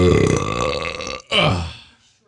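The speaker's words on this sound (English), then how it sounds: "instead of hitting it, you just burped right into it." Two loud, long, gurgling burps close to the microphone, separated by a brief gap, the second trailing off into quiet.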